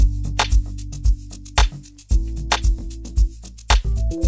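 Afrobeats groove from an FL Studio remake of a song: keys, deep bass and drums play together, with heavy kicks and sharp snare-like hits landing in a steady loop, loud and up close, no voices.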